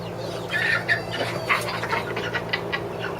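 Young hens on a small farm, a couple of months from laying, cluck in several short bursts over a low, steady background rumble, with no one talking.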